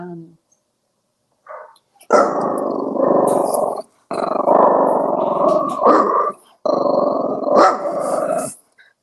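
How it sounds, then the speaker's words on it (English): A dog growls and barks in long, loud, rough bursts, three sustained stretches with short gaps, close to the microphone. "Tell them not to be barking during the stream."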